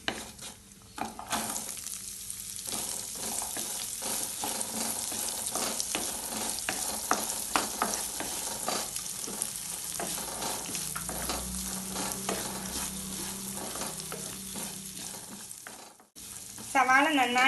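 Sliced onions sautéing with cumin seeds in hot oil for paneer masala, with a busy, continuous sizzle and frequent quick stirring scrapes throughout.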